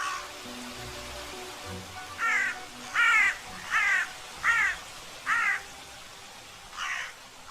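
Ravens caw loudly in a commotion around an animal carcass in snowy country, a run of six harsh, evenly spaced calls that are fairly close, with no talking.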